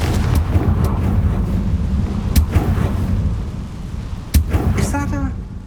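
A Confringo spell blast in the video game Hogwarts Legacy, a sharp loud burst cutting through a busy, rumbling game soundscape, with a second sharp impact a couple of seconds later.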